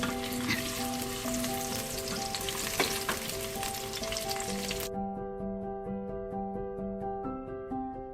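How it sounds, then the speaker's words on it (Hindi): Onions frying in 3–4 spoonfuls of hot oil in a kadai, browning for masoor pulao, give a steady, dense sizzle that runs loud and unbroken throughout, with no voices over it. "इसमें प्याज को फ्राई कर लेते हैं"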